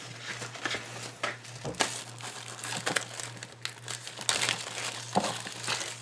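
Deco foil pieces for art journaling crinkle and rustle steadily close up, with sharp crackling bursts throughout and a low steady hum underneath.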